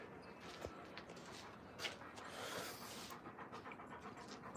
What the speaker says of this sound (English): These Alaskan Malamutes are big dogs.